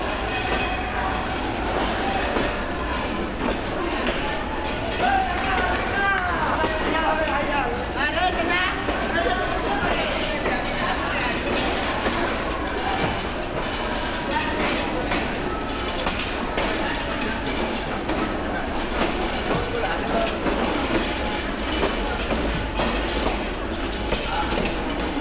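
The Rangpur Express rolls along at night with a continuous clatter and rumble of wheels on rails, while voices talk steadily throughout over the train noise.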